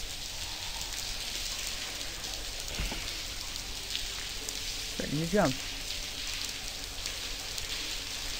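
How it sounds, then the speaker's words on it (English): Rain pours steadily in the adventure game The Blackwell Convergence, a constant hiss under brief spoken lines and a few short game sound effects. "let's get out of this rain"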